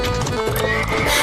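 A horse pulling a cart gallops with loud, close clip-clopping hooves and gives a sharp neigh over a busy, layered background.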